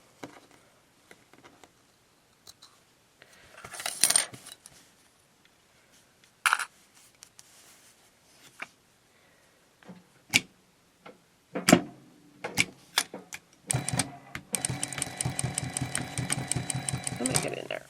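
Sewing machine stitching a fabric face mask with a filter pocket, heard as a steady rapid run of stitching near the end after scattered clicks, taps and short bursts of handling.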